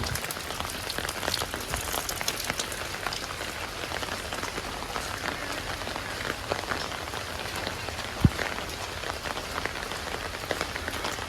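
Dense, even rainfall hissing continuously, with a single sharper drop or tap standing out near the end; no one speaks.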